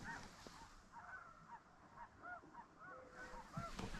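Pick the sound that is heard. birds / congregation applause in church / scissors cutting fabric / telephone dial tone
birds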